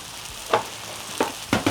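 Sausage frying in a pan for breakfast pancake tacos, a soft steady sizzle broken by three quick scraping stirs of a utensil, close and without talk.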